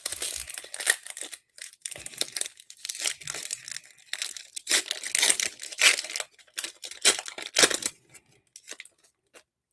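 Crinkly foil wrapper of a hockey die-cut trading card pack being torn open and crumpled, with bursts of rustling and ripping close up for about eight seconds, then quiet.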